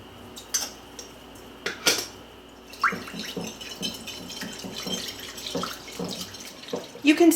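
Cold tap water runs into a sink over cooked food being drained, with clinking of cutlery and pans and scattered knocks throughout, close and steady with rising bursts near the end.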